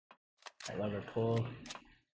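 A lever pulled in a Halo-style co-op shooter on an Anvil community server: a few sharp mechanical clicks and a heavy clunk, followed by a tonal, grinding mechanism sound that swells and fades over about two seconds, close and fairly loud.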